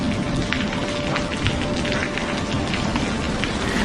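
Heavy rain pours steadily and loudly onto surfaces, a dense, unbroken hiss of drops with no talking.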